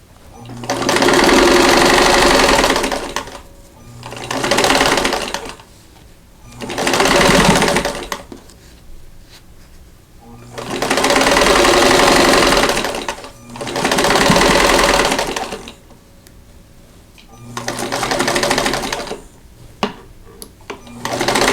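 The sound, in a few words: sewing machine stitching a quilt block seam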